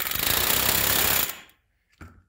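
A rivet gun drives rivets into an aircraft fuselage, one loud rapid hammering burst lasting over a second, then a short silence and a brief second tap, close by.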